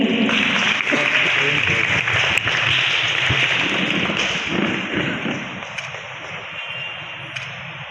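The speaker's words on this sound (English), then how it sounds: "Let's keep the claps going." An audience at a Mother Teresa Awards ceremony claps for an honoree in a dense, steady wash of applause that holds, then eases slightly toward the end, with a few voices mixed in.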